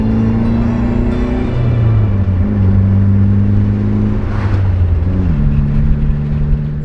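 A straight-piped Mitsubishi Evo engine drones loudly from close by, its pitch climbing in several steps as it pulls through the gears and shifts, with no voices over it.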